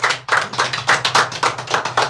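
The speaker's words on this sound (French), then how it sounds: "On applaudit Davidson Désir, s'il veut." Clapping from an audience honouring Davidson Désir at a staff awards ceremony for Radio Télé SCOOP, with uneven, fairly loud claps pulsing in quick irregular bursts for about two seconds.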